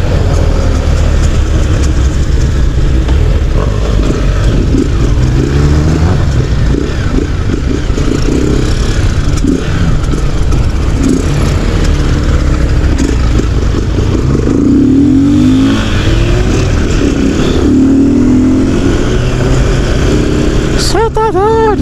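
Street motorcycles revving hard at a Brazilian wheelie event, engines roaring continuously and loudly close by with rising and falling throttle blips over a noisy crowd.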